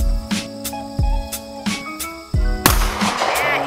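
A Ruger American rifle is fired at a shooting session, with several sharp, loud reports at uneven intervals among other range noise.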